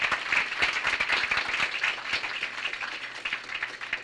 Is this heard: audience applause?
yes